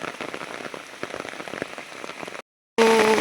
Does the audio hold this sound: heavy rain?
yes